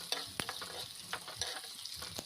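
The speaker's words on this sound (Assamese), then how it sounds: "তেলখিনি গৰম হ'বলৈ দি পিঁয়াজখিনি ভাজি লৈছোঁ।" Onions frying in hot oil, a faint, close crackling sizzle with small pops and light stirring scrapes repeating briefly.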